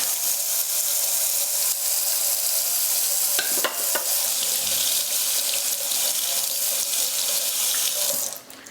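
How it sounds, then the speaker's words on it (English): A kitchen knife is rinsed under a running tap while making a Greek salad: a loud, continuous stream of water splashing in a sink, with a couple of faint clinks midway, until the water cuts off near the end. "Just rinsing off my knife"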